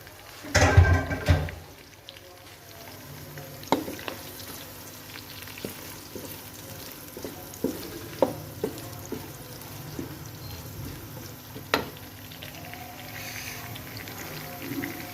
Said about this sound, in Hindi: इसको हमने फ्राई करना है प्याज को।